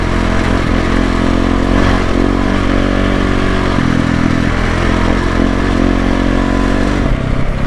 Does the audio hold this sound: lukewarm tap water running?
no